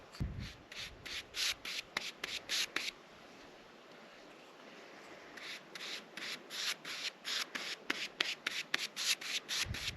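Wood stain rubbed by hand onto a lightly sanded wood block: a close, steady series of short rhythmic rubbing strokes that pause briefly mid-way and then resume in quicker repeated passes.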